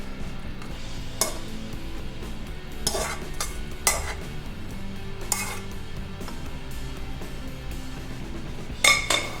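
Noodles and meats for a stir-fried seafood ramen with lobster are tossed and stirred in a pan: a steady soft sizzle with scraping, and intermittent sharp clinks of a utensil against the metal.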